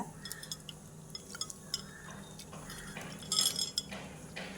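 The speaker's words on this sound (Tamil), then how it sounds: "இதை போட்டு நல்லா கரைச்சி விட்டுறணும் தக்காளியோட" Spoon stirring tamarind, tomato, curry leaves and coriander for rasam in a pot, soft scraping with light clinks and a faint liquid swish, quiet and close.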